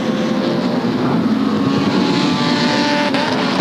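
Big V8 touring car engine roaring at Sandown during the 1992 Sandown 500, a loud, steady, broadband drone held throughout with wind rush over it and no voices.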